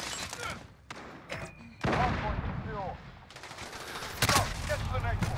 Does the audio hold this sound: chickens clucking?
no